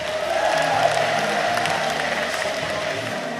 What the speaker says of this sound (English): Ladies and gentlemen, she deserves a clap just for that.